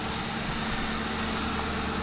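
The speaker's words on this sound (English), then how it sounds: "Crown Vics, they do tend to high idle for a few seconds, and then they come right down." The V8 engine of a 2004 Ford Crown Victoria police car idles under the open hood, a steady low rumble heard close up.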